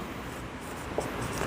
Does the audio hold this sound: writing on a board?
yes